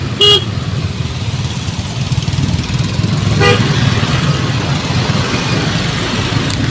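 Heavy traffic in a jam in Makassar, with a steady rumble of car and motorcycle engines close by and a short horn toot at the start, then another brief honk later.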